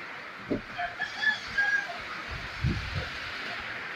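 Faint clucking of chickens tied up outdoors in cold stormy weather, with soft scattered calls over a steady background hiss.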